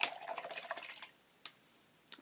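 A paintbrush loaded with magenta paint is swished in a jar of clean water, giving faint, rapid liquid splashing for about a second. A few soft isolated drips follow afterward.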